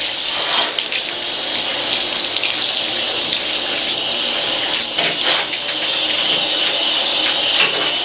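Running water from a shower hose rinses a dog during grooming, a steady hiss and spray close by with slight shifts as the stream moves over the coat, no voices.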